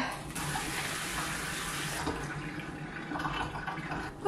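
Tap water runs steadily over wool yarn being rinsed in a sink, a continuous close gushing wash with slight shifts in flow and no talking.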